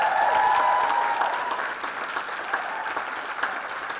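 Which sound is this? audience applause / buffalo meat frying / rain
audience applause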